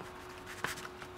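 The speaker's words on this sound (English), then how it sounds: "we write on the bag what it's for" A pen writing on a plastic bag, faint scratchy strokes with a few brief squeaky accents, close and quiet over a low steady hum, no voice.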